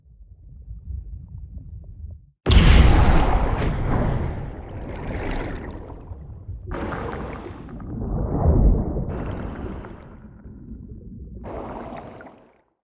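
Layered underwater torpedo explosion effect: a low rumble, then a sudden loud deep blast at about 2.5 s followed by rolling bursts, bubbling surges and booming swells that fade out, with no voices.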